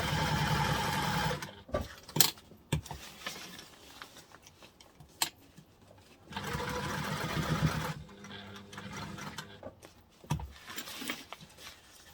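A sewing machine stitches along the edge of a reusable fold-and-store duffle bag in close bursts, with a steady run at the start, another in the middle, and short taps and clicks between passes.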